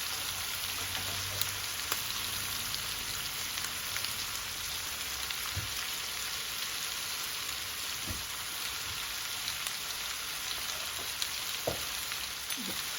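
Potato and meat for a lamb stew sizzle steadily in a pot, a soft continuous hiss with occasional faint pops and a few light clinks, no voices.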